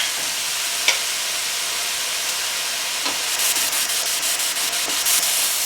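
Napa cabbage, celery and bean sprouts stir-frying for chow mein, a steady close hiss and sizzle with scraping and stirring textures and a few light utensil taps.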